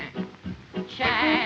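A singing voice imitates a nanny goat's bleat: several short wavering bleats, then a longer quavering one, close and clear in a song.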